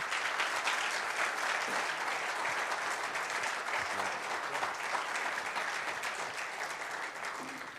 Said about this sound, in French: Il s'agit de Laurent Fraissinet, que je vous demande d'applaudir